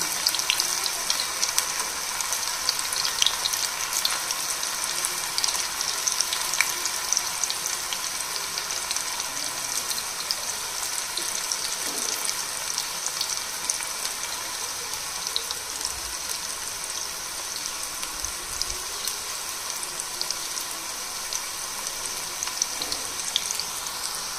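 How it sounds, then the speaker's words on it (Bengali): Cauliflower pieces fry in hot oil with a steady, dense crackling sizzle, close and even throughout, with no voices. "এবার একটা একটা করে ফুলকপির টুকরো এর মধ্যে দিয়ে মুচমুচে করে ভেজে নেব।"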